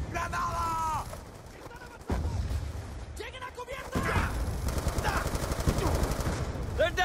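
Machine gun fire in Call of Duty: Black Ops II, loud rapid bursts and thudding shots with heavier sustained firing in the second half, mixed with shouted voices.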